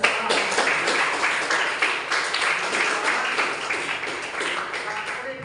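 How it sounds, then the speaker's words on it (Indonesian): Group clapping from a school or community gathering in Indonesia after singing the national anthem together, a dense continuous patter of many hands with some individual claps standing out, sustained and close. "Tepuk tangan untuk kita semua"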